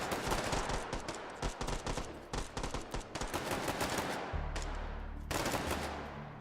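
Rapid bursts of SCAR DMR rifle fire in the VR shooter H3VR, loud and close, with clustered rhythmic shots followed by brief pauses and a heavier sustained low thump near the end.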